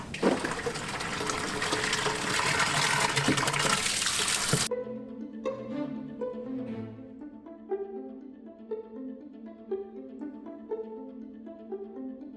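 Water from a pump gushes into an aquarium tank in a loud, rushing flow for several seconds before it stops sharply, after which soft background music carries on alone.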